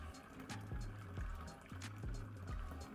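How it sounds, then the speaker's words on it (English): Fresh apple juice for cider poured into a jug, a soft gurgling trickle with rhythmic glugs and splashes, fairly quiet and close, no talking. "Jug number two, same again, easily pour it in."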